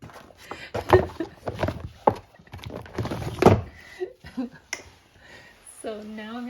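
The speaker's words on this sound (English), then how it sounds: "the drawer is making those noises" A storage drawer for cardstock, giving a run of wooden thunks, scrapes and creaks mixed with talking, ending in a brief squeaky sliding sound.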